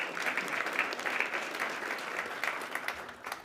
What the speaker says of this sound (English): a big round of applause for Kat for playing the role of Grace as the CISO